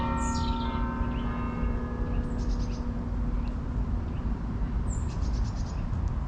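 Church bells ring out near the stadium in Cardiff city centre, heard as distant repeated chimes over a steady wash of traffic and street noise, with birds chirping now and then.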